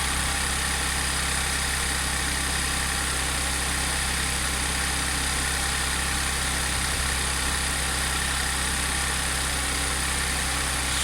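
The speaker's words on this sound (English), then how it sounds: "Just wait for it to kick off the high idle and see what it sounds like on low idle." Freshly repaired Audi car engine running at a steady, even high idle, a constant close hum and vibration with no talk.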